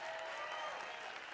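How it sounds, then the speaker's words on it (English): A large audience at a faith event claps in one continuous, dense burst of applause. It is fairly faint and steady, with no speech over it. "Let's give them a round of applause."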